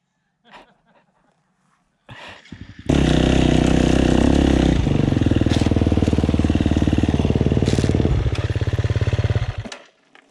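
A motorcycle in a forest revs up loudly and close after a few faint knocks, holding a strong roaring engine note for several seconds with rising and falling throttle before cutting off abruptly.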